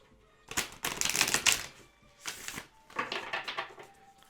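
An oracle card deck, the Moonology set, is shuffled by hand in close, quiet bursts of riffling paper flicks, with a brief pause between the two main rounds.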